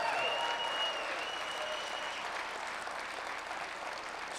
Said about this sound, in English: just clap real loud if you believe that that could happen